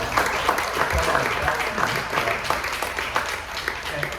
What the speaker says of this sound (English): I think you should applaud